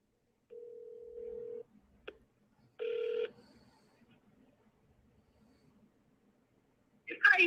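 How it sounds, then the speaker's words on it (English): Phone call being placed: a steady tone, a short blip, then a brighter two-part dialing or ringing tone, followed by quiet and a burst of a voice at the end. "I'm going to try giving this woman a call here really quickly, see if she picks up the phone"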